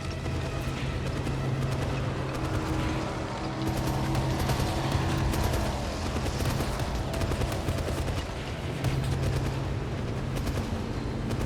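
Rapid, continuous gunfire from the James Bond 007 video game, with the player firing at ice: a dense, loud, rattling stream of shots that lasts throughout and has no talking over it.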